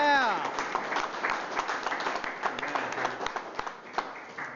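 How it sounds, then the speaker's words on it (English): Audience applause at a museum ceremony honoring wrestling world and Olympic champions, scattered claps forming a steady patter across the room, beginning right after a shouted voice and slowly easing off. "so that deserves a round of applause."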